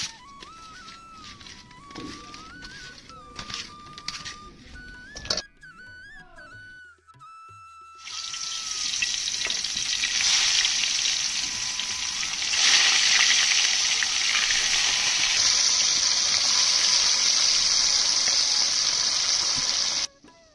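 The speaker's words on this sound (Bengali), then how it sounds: "কড়াই গরম হয়ে গেছে, তেল দিয়ে দিই।" Hot oil sizzling in a wok, ready for frying stinging catfish. Quieter kitchen sounds come first, then a loud, steady, hissing sizzle runs close to the end.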